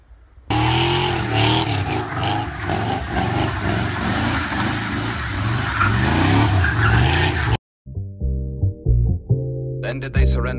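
A car engine revs loudly with skidding, tire-squeal-like bursts over several seconds, cut off abruptly by a brief silence, then shorter music-like sounds follow.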